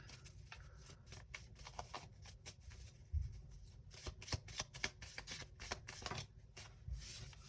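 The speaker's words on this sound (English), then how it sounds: "So let's get a card for the Usher reading." A tarot deck being shuffled and cards drawn, a quiet close rustle of riffling and flicking cards running steadily throughout with small taps, no voice.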